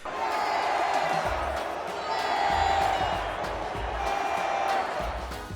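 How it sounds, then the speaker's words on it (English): A loud, lively crowd fills a lucha libre arena at a Friday night CMLL wrestling show in Mexico City, a dense, continuous roar of voices, shouts and cheers that swells in waves for the whole stretch. "culminating with a loud and lively crowd that was receptive to every maneuver"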